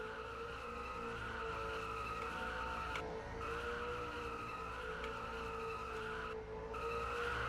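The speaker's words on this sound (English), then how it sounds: "After definitely a long race, Alpha will now do his burnouts" A race car performs burnouts after a long race at a Myrtle Beach event, with a sustained loud tire screech over a roaring engine, briefly dipping twice, heard close and continuous without speech.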